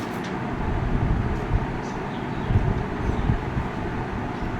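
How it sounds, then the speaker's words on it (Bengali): Constant low rumble of a moving train bound for Nabadwip heard from inside, with faint clatters over the steady roar and no voices. "ট্রেন চলছে"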